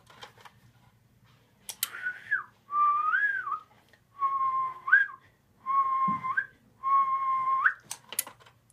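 Four or five sustained whistled tones into a radio microphone on single sideband, with rising and wavering pitch, separated by short pauses, fairly close and clear against faint background hum.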